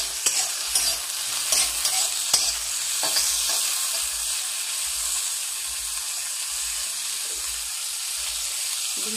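Chowmein ingredients stir-fried lightly in a pan: a few sharp scrapes and clatters of the spatula early on, then a continuous, even hiss of sizzling oil.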